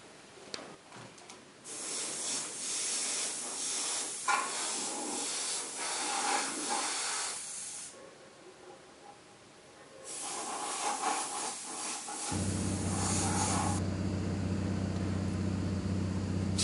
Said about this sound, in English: Airbrush some grey down onto the